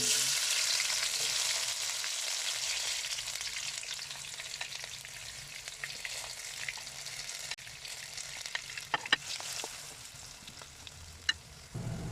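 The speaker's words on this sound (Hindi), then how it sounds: "ये जी हमारा ऑयल जो ये गर्म हो चुका है। अभी इसमें ऐड करेंगे हम प्याज।" Onions sizzle and crackle steadily in hot oil while making a Pakistani aloo baingan dish, a dense continuous fry noise with occasional sharper pops and stirring, no voices.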